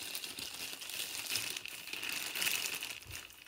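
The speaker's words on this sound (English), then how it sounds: "I'm just going to unwrap my clay." Plastic wrapping crinkles and rustles continuously at close range as a block of clay is unwrapped, with no talking.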